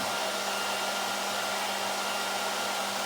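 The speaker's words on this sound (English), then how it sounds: "I want you to take your hair dryer, turn it onto a medium-high heat" A handheld hair dryer set to medium-high heat blows a loud, steady airy whoosh with a faint motor hum, running continuously and close by with no talking.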